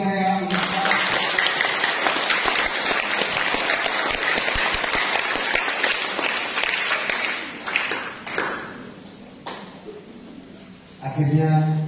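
Audience applause at a thanksgiving mass for a priest's 25th jubilee: sustained, dense clapping from a large congregation fading after several seconds, with a voice speaking over the end.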